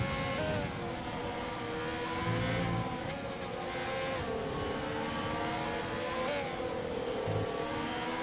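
Onboard engine note of a GP2 race car at the United States Grand Prix, a loud, steady high-pitched whine that rises and falls through gear changes and throttle lifts, close and continuous.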